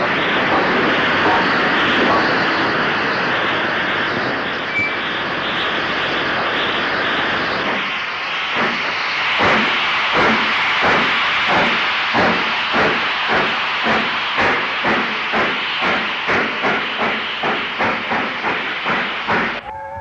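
Steam locomotive 45290 working a stopping train at Hindley North near Wigan, a loud hissing rush giving way to a run of rhythmic exhaust beats that pulse evenly and strongly before cutting off abruptly.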